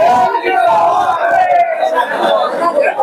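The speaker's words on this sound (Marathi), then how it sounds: "कार्यकर्ते आपण विजयाचा जल्लोष पाहता" A dense crowd of party workers celebrates an election victory in Mangalwar Peth, Karad, with loud, close, continuous overlapping shouting and chatter.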